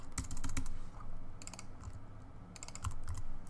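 Someone types on a computer keyboard at close range, fast bursts of clicking keys separated by short pauses, with no talking.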